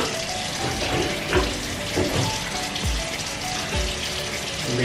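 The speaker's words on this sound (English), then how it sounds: "this one I'm going to use to add water to the bucket" Water runs steadily into a bucket while home-brewed cider is being made, a continuous splashing gush with small knocks and bumps, close and fairly quiet, with no voices.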